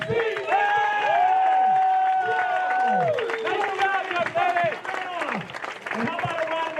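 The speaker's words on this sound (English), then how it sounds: "Let's have a round of applause for CC." Outdoor crowd at a beer mile race during a waterfront festival applauding for a person, steady clapping mixed with a loud announcer's voice talking over it through a public address system.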